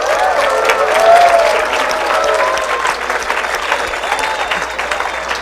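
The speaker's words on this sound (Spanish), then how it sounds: "Dense un aplauso, por favor." Audience applause at a justice conference in Jalisco, a loud, dense burst of clapping from a crowd that swells early and then slowly tapers off, with no talk over it.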